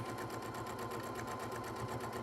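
A sewing machine stitches fabric onto elastic in a steady, fast mechanical whir with even needle pulses, running continuously at a quiet, close level with no talking.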